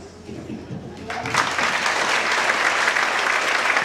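A church congregation breaks into applause during a pastor's sermon. A brief voice is heard first, then clapping swells up and holds as a loud, dense, sustained wash.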